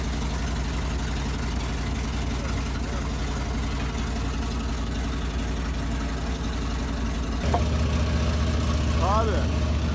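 A vintage Tico K500WH truck crane engine runs steadily at a low idle, a deep constant rumble throughout, with a brief change near the end as it is revved or shifted, and voices talk over it.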